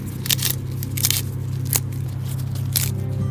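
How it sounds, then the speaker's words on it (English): Kale leaves torn by hand into rough pieces, giving several short crisp ripping and crackling bursts at irregular intervals over a steady low hum, close and moderately loud. "I'm just going to tear it into rough pieces"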